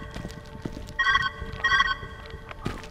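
A telephone rings inside the video game Viewfinder, two clear electronic trilling bursts about half a second apart, moderately loud over soft footsteps and game ambience.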